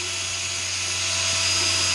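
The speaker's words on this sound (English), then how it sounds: "We're gonna take a piece of sandpaper on a drill" A drill spins sandpaper against a metal driveshaft yoke from a Triumph Spitfire, making a steady close whine with rough grinding hiss that builds slightly toward the end.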